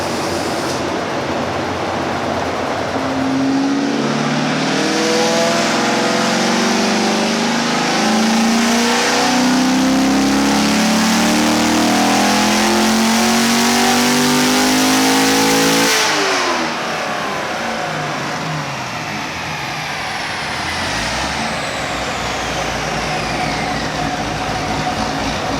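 Flame-spitting Camaro ZL1 on a dyno, its engine roaring up through a long, loud full-throttle pull with rising pitch before the throttle snaps shut and the revs wind down over whining rollers.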